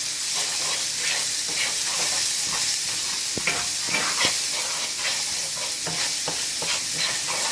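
Crushed garlic and grated ginger fry in hot oil, giving a loud, steady sizzling hiss while a spoon stirs and scrapes the pan in irregular taps; close and continuous, with no voices.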